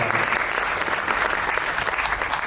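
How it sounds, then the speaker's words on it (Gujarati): An audience at a Gujarati mushaira claps to welcome a poet, with dense, sustained applause filling the hall at an even level. "આપણે તાળીઓ સાથે એના કાવ્યપાઠ માટે આવકારીએ"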